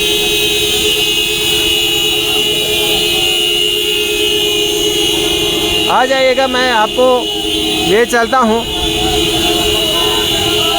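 Vehicle horns sound in two short honking bursts at a farmers' protest against inflation, heard over steady background noise while someone speaks close by.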